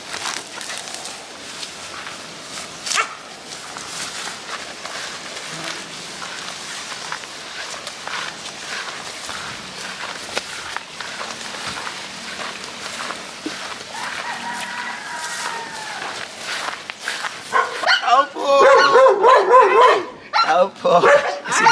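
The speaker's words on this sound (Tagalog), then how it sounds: "ang daming aso, di ba kakagatin yan?" Several dogs bark and yip in bursts amid background chatter and footsteps, growing louder and busier toward the end.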